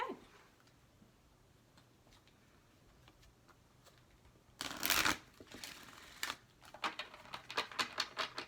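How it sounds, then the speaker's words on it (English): Crisp riffling and snapping of playing cards, quiet at first, then a loud burst of shuffling followed by a rapid series of card flicks, close by. "I will begin to shuffle."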